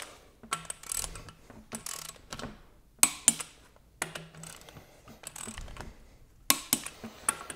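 A torque wrench tightens head studs on a Lamborghini engine block in short bursts of ratcheting clicks, quiet and close, separated by brief pauses.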